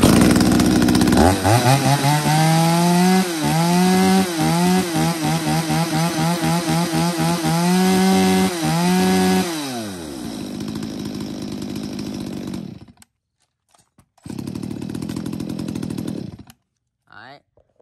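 Used Japanese chainsaws from brands such as STIHL, ECHO and Makita, one a 40cc saw, are pull-started and run: a loud close two-stroke engine revving up and down repeatedly, then idling and cutting out, starting again briefly.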